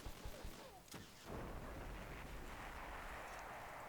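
A rocket fired at an enemy barracks in the video game Tiny Troopers bursts out as a brief whoosh and blast, followed by a sustained rumbling roar of the explosion under faint game noise.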